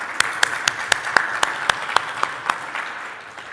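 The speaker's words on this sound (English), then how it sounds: "Can we get a quick round of applause for them?" Conference audience applauding panelists at an ICT ministerial seminar in Jamaica, a sparse round of distinct claps in a regular rhythm that thins and fades toward the end.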